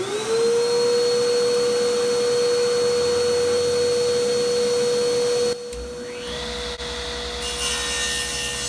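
An old Model 10 contractor table saw runs with dust collection attached, giving a steady loud motor whine and blade hum with a rushing airflow roar underneath; the pitch shifts near the end as the load changes.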